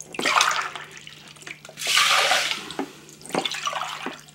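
Water poured from a height into a cooking pot holding half a cup of lentils, splashing in two bursts with a few quieter trickles and drips between, no voices.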